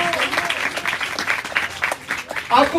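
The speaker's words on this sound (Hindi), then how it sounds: "ये खुदावंद के जलाल के लिए जोरदार ताली बजाएं" A church congregation clapping loudly and continuously during a Hindi-Urdu sermon. A preacher's voice is partly audible over the applause.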